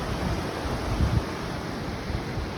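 A big river flows steadily along a backpacking trail toward Yocum Ridge in the Mt. Hood Wilderness, a constant broad rushing wash close by, with nobody speaking.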